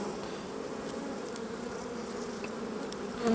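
Honeybees buzz in a dense, steady drone as a hive frame bearing queen cells is shaken off during a hive split, the swarm sound holding close and even throughout with a slight swell at the end.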